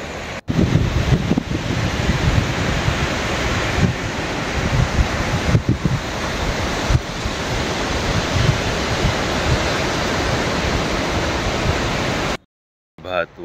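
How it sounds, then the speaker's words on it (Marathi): Ocean surf washing onto the beach at a seaside resort in Alibaug in the early morning, a steady broadband roar of breaking waves that stays loud and unbroken for most of the stretch before cutting off near the end. "डोळे बंद करा आणि शांतपणे हा लाटांचा आवाज ऐका"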